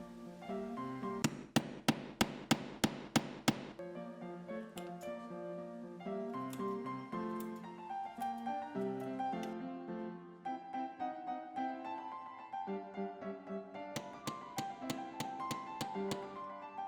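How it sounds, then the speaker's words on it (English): Metal grommets are hammered into place-mat stays (a corset) in two quick bursts of sharp, evenly spaced taps, one near the start and one near the end, with soft music playing between and beneath them. "listen to the peaceful, calming sounds of hammering in grommets"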